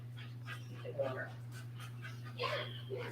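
A small, friendly dog at a fire station pants and lets out soft whimpers in short bursts, mixed with people talking over a steady electrical hum.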